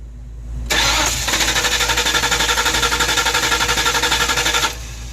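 A 1994 convertible's engine cranks on jumper cables, the starter churning in a fast, even rhythmic whir for about four seconds without catching, then stopping.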